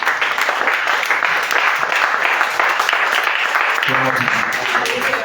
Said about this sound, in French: Acclamez le Seigneur pour ça.